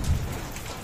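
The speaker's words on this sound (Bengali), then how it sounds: "ওই দেখো বাইরে বৃষ্টি হচ্ছে" Rain falling outside on a rainy day, soaking sheets left out, makes a dense steady hiss of drops with a slightly louder low rumble at the start, and no one talks.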